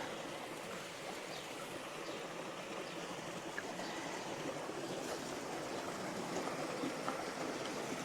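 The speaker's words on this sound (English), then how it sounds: "So the water's coming down from the mountain up there." A mountain stream rushes steadily downhill along a rough trail, a continuous broadband wash of flowing water heard close and loud throughout, with no voices.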